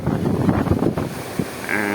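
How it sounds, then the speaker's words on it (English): Strong wind after a hurricane in Bermuda, buffeting the microphone in loud, gusty roars. A faint tonal hum enters near the end. "what I'm looking at is really strong wind"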